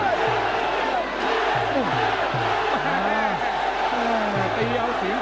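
Fans cheer at a Muay Thai fight in a stadium, a steady roar of crowd noise with rising and falling shouts, while a commentator talks over it.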